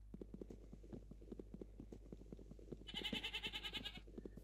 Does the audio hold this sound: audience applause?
no